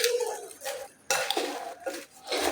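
Fruit being stirred with powdered sugar in a bowl, giving light clinks and scraping taps of a utensil against the dish in short irregular bursts separated by brief pauses.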